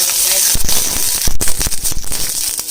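Chopped onion dropped into hot oil in a pan, crackling and popping in a loud, dense sizzle with irregular sharp spits, close up, while making groundnut chutney.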